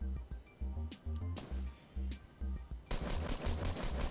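Gunfire in the video game Fortnite: bursts of shots repeat roughly every half second, each a sharp crack over a low thump, then build into a dense, continuous volley near the end.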